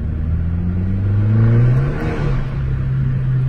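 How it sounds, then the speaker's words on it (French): A car engine revs up and holds a rising, droning whine, then settles back, loud and close, with no voices. "des moteurs qui gueulent dans les tours comme celui-ci"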